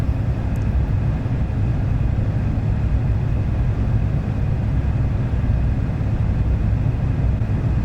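A 1994 Camaro Z28 with the LT1 V8 pulls hard in second gear, a steady, loud, deep engine roar that holds continuously throughout with no talk over it.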